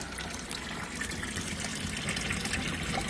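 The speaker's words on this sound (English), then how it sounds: "You can see the water coming down, coming out of this pipe." Water flows steadily out of a pipe on a high banker used to clean up fine gold, a continuous close splash and hiss that does not let up, with no talk.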